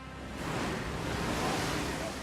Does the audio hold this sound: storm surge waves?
yes